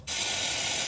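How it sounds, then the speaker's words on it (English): Aerosol spray applied to suspension bolts on a Vauxhall Corsa, one short, close, steady hiss that starts abruptly and lasts under a second, with no talk. "a little bit of spray"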